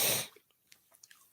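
A single short, sharp sneeze bursts out loudly at the start, followed by faint breathing and small mouth sounds in a quiet room.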